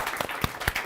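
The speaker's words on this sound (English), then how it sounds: "So just a hand of applause for them." A handful of scattered, distinct hand claps ring out from a small audience at a developer meetup, brief and fairly quiet, with no voices over them.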